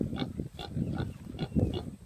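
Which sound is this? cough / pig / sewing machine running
pig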